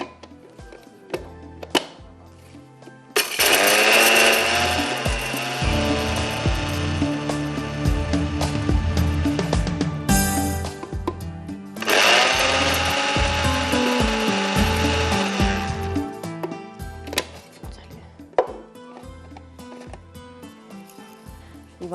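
An electric grinder whirs through lightly roasted cardamom and other spices in two long, loud runs, with rattling and rubbing between and after them.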